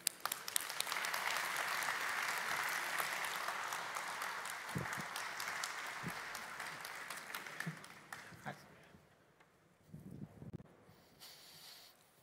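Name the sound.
audience applause at a conference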